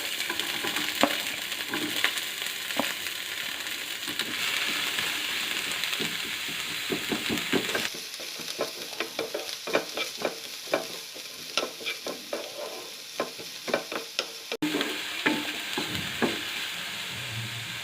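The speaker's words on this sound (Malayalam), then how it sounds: "അപ്പം അത് ചൂടായപ്പോൾ നമ്മുടെ സവാള ഇട്ട് കൊടുക്കുകയാണ്." Sliced onions hit hot coconut oil in a pan while making a bread sandwich filling: a steady, close sizzle with frequent scraping stirs that turn sharper and choppier partway through, and no voices.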